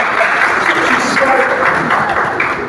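An audience claps together in a loud, dense burst of applause that keeps up steadily and fades a little at the very end.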